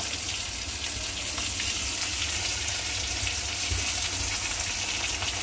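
Ginger paste hitting hot oil in a frying pan, a steady dense sizzle that holds evenly throughout with no talking.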